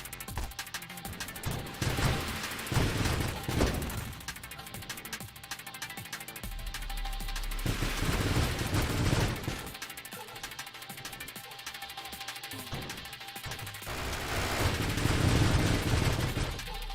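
Ship weapons firing in Nova Drift, a dense stream of rapid shots and bursts running continuously over layered game effects, loud and busy throughout.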